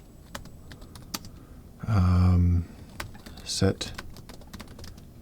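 Computer keyboard typing a command into the Espressif IDF terminal on Windows 11, scattered close clicky keystrokes with a short electronic tone midway and a brief spoken word.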